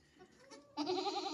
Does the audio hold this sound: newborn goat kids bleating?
yes